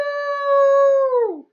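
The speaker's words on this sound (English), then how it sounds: "there was a terrible howl from outside" A dog outside a church during a sermon lets out one long, loud, steady howl that sags downward and fades at the end, heard alone with no talking.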